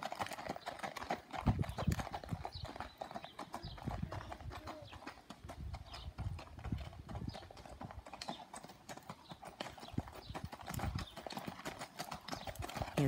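Horse hooves clip-clop steadily on hard ground, a continuous close rhythm of sharp knocks with faint background noise.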